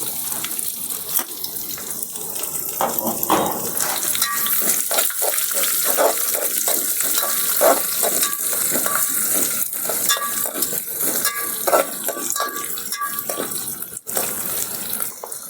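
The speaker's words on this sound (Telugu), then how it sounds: "ఇప్పుడు మనం ఉల్లిగడ్డ వేసుకొని మంచి కలర్ వచ్చేలాగా ఫ్రై చేసుకోవాలి" Onions fry with okra in a pan, a steady loud sizzle heard close up, broken by frequent scraping stirs and clatter, with no voices.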